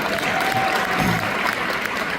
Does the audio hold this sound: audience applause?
yes